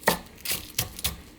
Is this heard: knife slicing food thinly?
yes